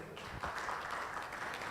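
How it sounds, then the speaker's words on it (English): Audience applause at a music industry conference session, greeting a record-label director as he is introduced; a steady wash of clapping runs through the whole short stretch at moderate level. "A round of applause for him."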